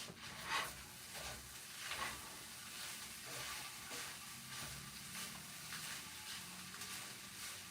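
Onions frying in a pot for chili, a continuous hissing sizzle with rhythmic scraping surges as they are stirred, fairly quiet and close with no talking.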